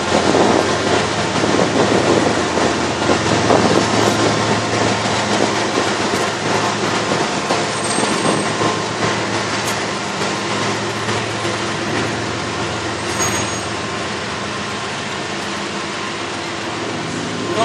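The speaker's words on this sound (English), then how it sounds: "Let this train pass by." A train rolls past continuously for the whole stretch, a broad steady rumble with rhythmic clickety-clack of rail cars, loud and close, with faint brief squeals high up and no voices.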